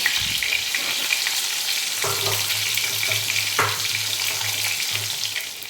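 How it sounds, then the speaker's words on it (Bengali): Ash gourd fritters deep-frying in hot oil, a continuous crackling sizzle with a low bubbling hum, close and steady, briefly disturbed as pieces are moved in the pan. "এরপর বাকি যে বড়াগুলো আছে সব একে একে ভেজে নেব"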